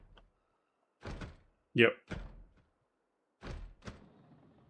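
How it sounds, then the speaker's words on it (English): Zombies banging on a front door in Project Zomboid, a few dull wooden thuds in separate clusters, quiet and muffled, with a short spoken remark between them. "See, that front door has one banging and the other one beside it, so it's 2."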